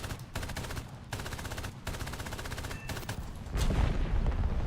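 A British vehicle's gunner in War Thunder fires long bursts of rapid automatic fire, loud and close, broken by short pauses before a heavier, rumbling stretch at the end.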